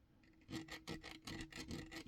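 Quiet, rhythmic scratchy rubbing strokes over the textured metal plate of a WWE Undisputed Championship replica belt, about a dozen quick rasping passes in a steady back-and-forth pattern, close and alone.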